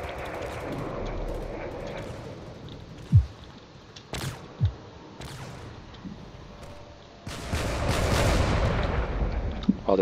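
Battleship cannons firing in a space combat video game, heard as a few sharp, loud booming shots scattered among a steady rumbling battle din that swells louder toward the end.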